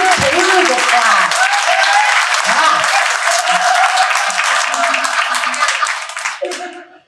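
A studio audience at Psychic Sheila's Suga Shack show applauds Taylor with sustained, dense clapping for about six seconds before it trails off, with faint voices underneath.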